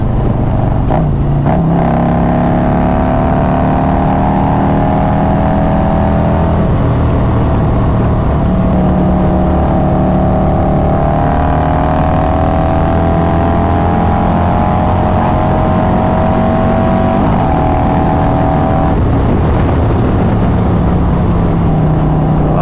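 A Harley-Davidson Road Glide with a 2-into-1 exhaust and an S&S 475 cam rumbles steadily at speed, its exhaust note rising and falling across a few gear changes. The engine stays loud and close throughout, with no voices over it.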